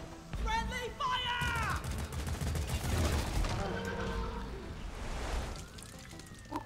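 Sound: friendly gunfire in the Deep Rock Galactic video game

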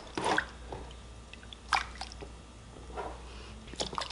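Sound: washing dyed silk roving in water

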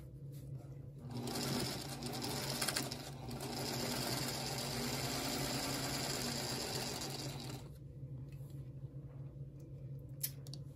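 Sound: sewing machine stitching a quilt block

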